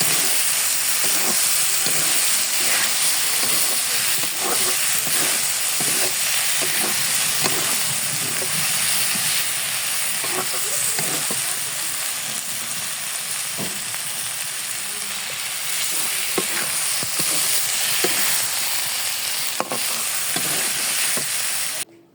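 Banana flower frying with taki fish in hot oil, a steady close sizzle with repeated scraping stirs throughout, no talking.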